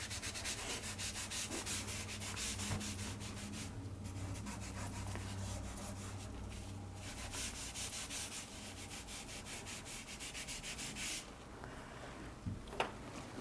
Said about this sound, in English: sometimes I'll take a paper towel and just kind of soften everything up a little bit